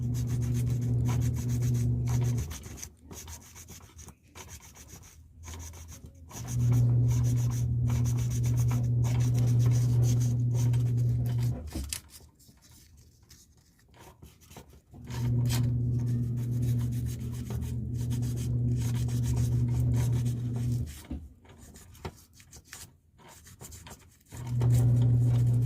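A new power tool armature being lightly sanded by hand with the finest sandpaper, rhythmic rubbing strokes in bursts with short pauses, close and steady.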